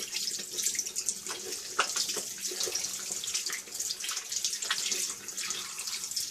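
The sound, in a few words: tap running water, rinsing soap off hands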